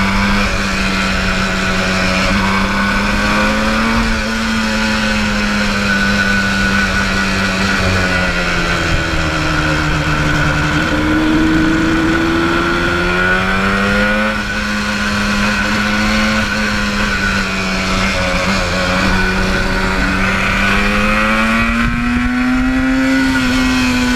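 A 1977 Yamaha RD400 two-stroke motorcycle rides steadily and close, its engine note rising and falling through gear changes and throttle shifts across the whole stretch, loud and continuous with no voices.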